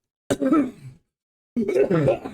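After imitating a computer voice, a man coughs and clears his throat roughly in two close, harsh bursts separated by a brief pause.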